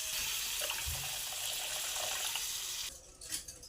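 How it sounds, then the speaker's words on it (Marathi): Water is poured steadily into a pan of mixed masala for curry-style stuffed brinjals with potatoes, giving a loud, continuous gushing splash that stops abruptly near the end. "आपण याच्यात पाणी घालून घेऊया."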